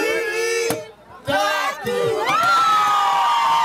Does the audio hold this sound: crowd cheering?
yes